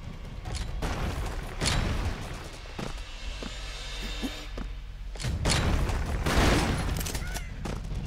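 Grenade explosions in the video game Rambro, several heavy booming blasts and thuds spaced across the scene amid gunfire, with a player talking over them.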